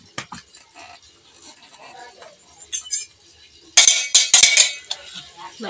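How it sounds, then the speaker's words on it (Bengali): A spoon clinks and scrapes against a pan while Maggi noodles are stirred, sharp metallic taps clustering into a louder burst of rapid clinks near the end. "মোনালি শুধু ঘাঁটতেই থাকে, দেখো তো, শুধু ঘাঁটছে বসে বসে।"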